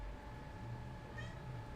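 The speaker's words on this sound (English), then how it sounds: "Meowing." A domestic cat gives a faint, drawn-out meow against a quiet room background, with no one talking.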